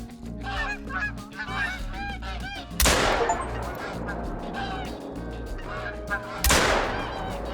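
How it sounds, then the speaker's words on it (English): A flock of geese honks and calls continuously in theHunter: Call of the Wild while two loud shotgun blasts ring out a few seconds apart, each cutting sharply through the cackling birds. "Two with the first shot, and caught a third as he passed in front of my target on the second."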